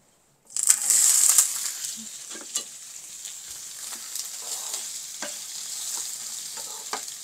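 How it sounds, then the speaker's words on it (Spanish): Carrots frying in hot oil, a loud steady sizzle that starts abruptly and stays close, with occasional clicks and scrapes of stirring. "Las zanahorias las voy a suavizar aquí en aceite, ya está caliente."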